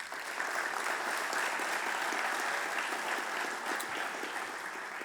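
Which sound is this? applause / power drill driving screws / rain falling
applause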